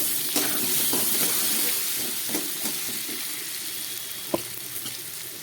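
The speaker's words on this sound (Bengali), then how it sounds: "নুন হলুদ দিয়ে সবজিগুলো খুব ভালো করে ভেজে নিয়েছি।" Vegetables frying in a pan with salt and turmeric, a steady close sizzle with occasional light clinks and taps and no speech.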